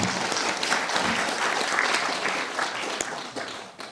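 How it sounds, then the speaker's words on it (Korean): Warm audience applause fills a large auditorium at the National Assembly Library in Korea, steady continuous clapping of a sizeable crowd that tapers off slightly at the end. "뜨거운 박수로 좀 부탁드립니다"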